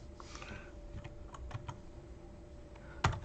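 Light typing on a computer keyboard, a quick run of soft key clicks over a steady background hum, ending on one louder keystroke.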